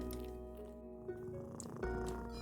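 Steady low purring from a cat being petted in the puzzle game A Little to the Left, a soft continuous rumble with faint game chimes on top, close and fairly quiet.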